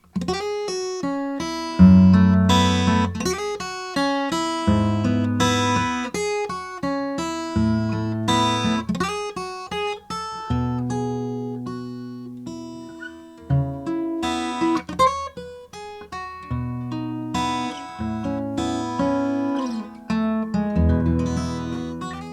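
Fingerpicked acoustic guitar plays a steady instrumental passage, bass notes under ringing melody notes, close and clear with no voices.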